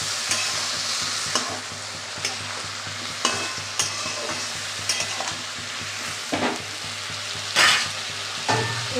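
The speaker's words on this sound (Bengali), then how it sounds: "ভালো করে নেড়ে চেড়ে দেবো।" Four green chillies and a little turmeric frying in a pan, with a steady low sizzle and a spatula knocking and scraping at irregular intervals, close by.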